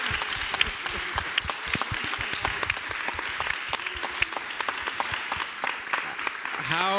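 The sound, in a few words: audience applause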